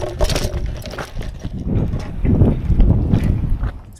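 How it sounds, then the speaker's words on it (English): Gusty wind buffets the microphone beside the rocky bank of the Colorado River, a loud, rough rushing that rises and falls over a few seconds with no voices. "It's pretty windy over here."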